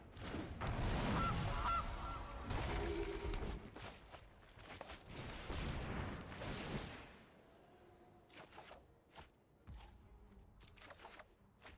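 Goose honks from the Gilded Goose card in the MTG Arena card game, a burst of loud, close honking and flapping for several seconds, then quieter clicks and scattered interface sounds.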